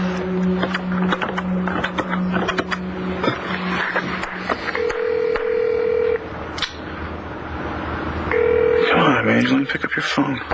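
A telephone rings in a daytime soap opera scene, its steady electronic tones repeating alongside speech and other background sound.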